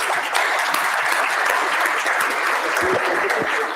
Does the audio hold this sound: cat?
no